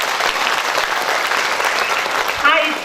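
A congregation applauds at a prophecy and healing festival in Agartala, Tripura, with dense steady clapping filling the space and a voice briefly rising over it near the end.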